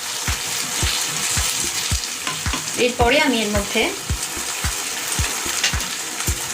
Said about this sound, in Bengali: পেঁয়াজ, ক্যাপসিকাম, টমেটো এই যে আমি 5 মিনিট ধরে ভাজলাম